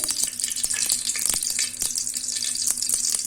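Oil heating in a pressure cooker for mutton curry gives a continuous soft sizzle with scattered crackles and pops, close and steady, with no talking.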